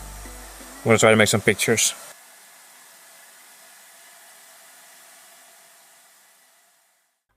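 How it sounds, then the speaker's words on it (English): A hair dryer blows across the water surface of an aquarium, a steady airy hiss that follows a brief spoken line and then slowly fades away to silence. "So the dryer is creating some nice ripples."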